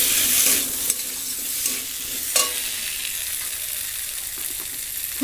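Potatoes fry in oil with spices while a spoon stirs and scrapes the pan, producing a continuous close sizzle broken by several scraping strokes.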